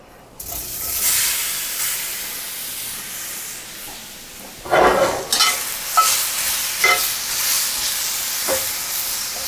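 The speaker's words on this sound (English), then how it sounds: "there's no oil in here, and we're just giving them a quick sear" Sliced jalapeno hits a hot dry pan with no oil, a loud hiss and sizzle starting steady, then bursts of sharper crackle as the pieces are stirred and searing; no speech.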